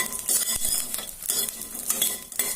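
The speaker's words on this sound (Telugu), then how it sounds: "నెయ్యి వేసుకొని చక్కగా ఈ విధంగా వేయించుకోవాలి." Gond laddu ingredients fry in ghee in a pan while a spoon stirs them, giving a close, steady run of scraping clinks and soft metallic knocks over a faint sizzle, with no voices.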